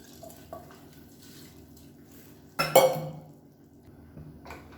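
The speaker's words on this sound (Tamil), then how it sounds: "இப்போ நம்ம அரிசியை சேர்த்துக்கலாம்." Rice is tipped into a pot of boiling water for dal biryani, making one brief, fairly close pouring clatter and splash, with a low bubbling simmer before and after.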